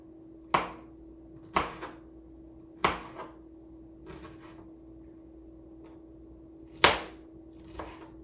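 A knife cuts pineapple into bite-sized pieces on a board, giving six sharp, separate chops spaced about a second apart against a steady low hum, with no talking.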